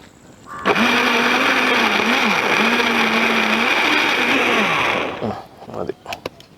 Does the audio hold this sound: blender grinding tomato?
yes